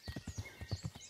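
Horse hooves clip-clop on a road in the medieval video game Kingdom Come: Deliverance, a quick, even run of about nine close hoof strikes at trotting pace.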